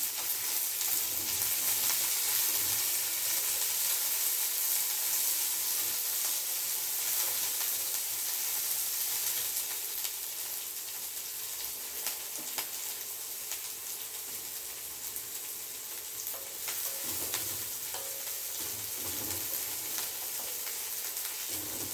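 Garlic and a finely chopped medium onion sauté in a pan for a snake gourd thokku, with a continuous hissing sizzle and occasional stirring scrapes, steady and close, with no talking.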